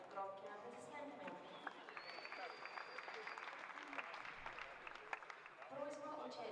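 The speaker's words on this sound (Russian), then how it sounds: "Поддержим спортсменов громкими аплодисментами." Audience applause for gymnasts at an artistic gymnastics final in Kazan, a sustained wash of clapping filling the arena, steady and moderately distant, with a brief whistle-like tone and faint voices mixed in.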